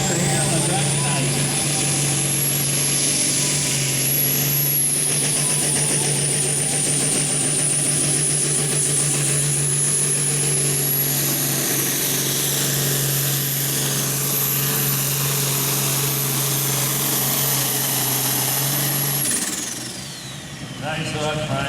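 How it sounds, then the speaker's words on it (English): An International 1206 tractor roaring down the track at a farm tractor pull in Central City, Iowa: a loud, sustained engine howl with a high whine, steady for about twenty seconds before easing off, with an announcer talking over it. "1206 International, most beautiful tractor here on the track tonight."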